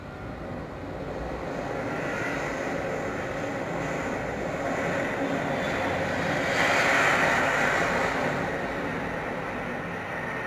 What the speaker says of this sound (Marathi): आपल्याला आता विमानाचा आवाज ऐकायचा आहे।